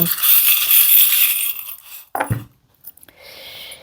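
Charms cast for a reading, a bright metallic clinking and rattling cluster at first, then a few small separate clicks and light jingles as the pieces settle.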